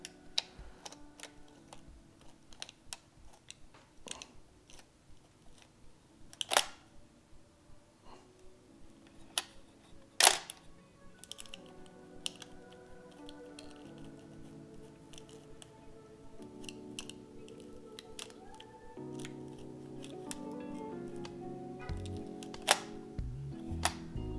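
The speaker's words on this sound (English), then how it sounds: "So they did say when you're winding the film to do it very gently." Washi film is wound gently through a Nikon F3 film camera, making a close, quiet series of small mechanical ticks and clicks. The clicks are irregular, with a few sharper snaps, and no one speaks.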